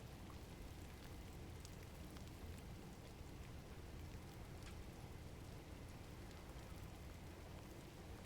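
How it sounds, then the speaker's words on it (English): Rain falls steadily in the game GRIS, a soft, even hiss of drops that holds at the same faint level throughout, with no other sounds over it. "Now it's raining."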